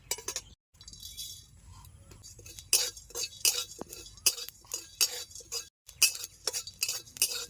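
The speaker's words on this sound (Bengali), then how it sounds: "গরম মশলা আধা ভাজা হয়ে গেছে এবার দেবো গোটা জিরা" Whole garam masala and cumin seeds dry-roasting in a wok, with a metal spatula scraping and clinking against the pan in repeated bursts, close and fairly quiet.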